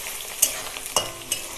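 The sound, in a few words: chopped onion and garlic frying in oil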